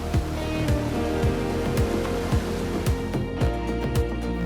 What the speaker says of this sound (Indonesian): Air terjun Sigota-gota ini sangatlah sejuk.